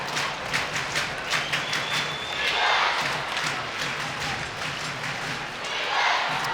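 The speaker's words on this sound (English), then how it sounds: "That hit has brought the crowd to life again." An ice hockey arena crowd at a Sheffield Steelers versus Glasgow Clan league game roars after a big hit, a broad sustained swell of cheering and noise that rises and falls without commentary over it.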